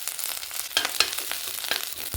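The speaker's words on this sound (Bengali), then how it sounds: "আদা বাটাটা একটু নেড়ে চেড়ে, কাঁচা গন্ধটা চলে যাবে, নেড়ে চেড়ে নেবো" Ginger paste frying in a pan with a tempering of dried and slit green chillies, giving a steady crackling sizzle broken by scraping stirs.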